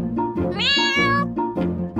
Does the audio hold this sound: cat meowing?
yes